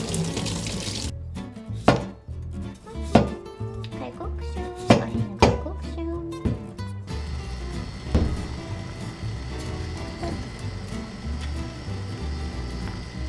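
A knife chops on a cutting board in sharp, irregular strikes near the microphone, then running water from a tap takes over.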